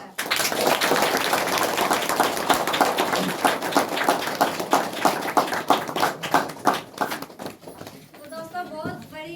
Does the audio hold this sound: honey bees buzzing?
no